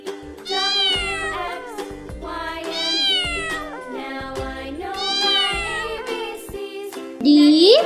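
Repeated loud, clear meows from a cat, several drawn-out calls in a row with short pauses between, ending in a higher rising cry.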